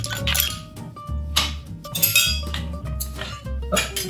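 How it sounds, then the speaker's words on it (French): Ice cubes fill a cocktail shaker while a gin fizz is being made, giving a run of bright, clattering clinks and rattles close by with a steady low hum underneath. "Ensuite, venir remplir de glaçons le shaker."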